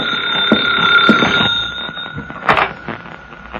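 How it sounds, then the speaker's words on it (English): An old-fashioned telephone bell rings in an office scene of a radio drama, a bright sustained ring pausing briefly and then starting again, loud and close, with no one speaking. "That's the phone ringing in your office,"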